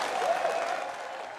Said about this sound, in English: Applause all around at this year's Tory party conference